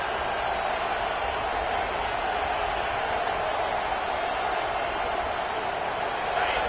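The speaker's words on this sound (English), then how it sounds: "This crowd, full throat, splitting the eardrums and letting them know it's going to be a long day." A stadium crowd in the American college football video game NCAA 26 roars loudly and steadily, a dense unbroken wall of cheering that holds without letup.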